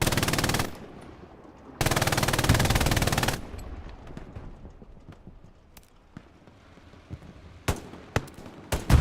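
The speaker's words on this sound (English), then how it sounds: "Setting up the MG." A machine gun fires in the Hell Let Loose PC shooter on the Carentan canal crossing map: two long, loud, close sustained bursts, then sparser distant shots and sharp cracks across the battlefield.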